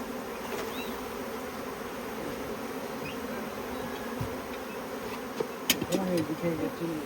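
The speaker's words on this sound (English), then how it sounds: "That is what you call boiling with bees." A dense, steady drone of many honeybees boiling out of a crowded hive fills the air, constant and close, with a few brief knocks and faint voice-like sounds near the end.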